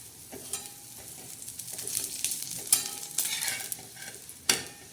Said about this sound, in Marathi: आता छान असं आपण दुसरी बाजू बी भाजणार आहोत